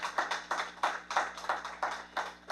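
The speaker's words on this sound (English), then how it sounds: "a great big round of applause" Hand claps ring out at a ceremony honouring a classroom e-tablet program, arriving as a quick, regular series of crisp, fairly close claps from what seems a small group.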